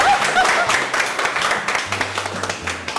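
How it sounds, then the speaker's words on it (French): Studio audience applause at a French show, a busy patter of clapping that swells at the start and then thins, with sustained tones and faint background voices mixed in. "Bon, applaudissements."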